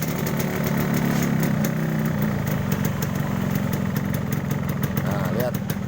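Yamaha RX King two-stroke motorcycle engine running steadily at close range, a continuous buzzing drone with a faint rattle throughout, heard during an oil pump check.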